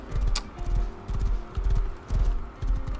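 In the video game Rust, a horse's hooves clip-clop in a steady repeating gallop rhythm, close and clear, with a brief faint whinny-like sound near the start.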